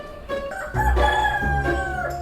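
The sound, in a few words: person imitating a rooster crowing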